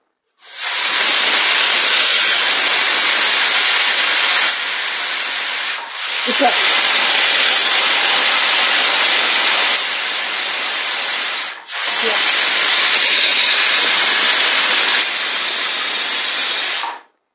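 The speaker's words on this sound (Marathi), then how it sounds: "इथे आपल्या कुकरचे 3 शिट्टे झालेले आहे" A pressure cooker on a gas stove releasing steam in three long, loud, steady hissing bursts, each lasting several seconds, separated by brief breaks.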